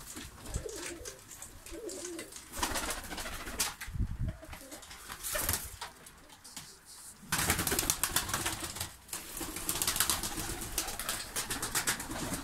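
A large flock of Malatya and Kanat Posta pigeons coos continuously, their mingled calls overlapping with rustling, scattered knocks and the occasional flutter of wings.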